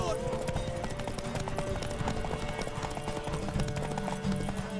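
Rhythmic clip-clop of horse hooves in The Witcher 3 runs steadily throughout, close and prominent, mixed with game music and a voice talking.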